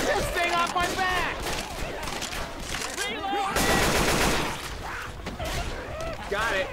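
Rapid gunfire from Left 4 Dead 2 as players shoot a jockey, loud bursts mixed with game effects and shouted talk throughout.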